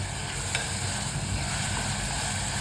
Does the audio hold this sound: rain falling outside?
no